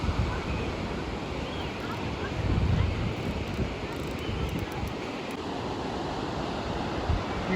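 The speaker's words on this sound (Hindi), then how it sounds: "एक नदी है, नीलम नदी।" The Neelam river flowing past a village in Kashmir, a loud continuous rushing roar of water mixed with wind noise on the microphone, with no clear talk.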